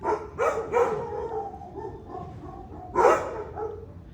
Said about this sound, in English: I can hear half of them barking in the house.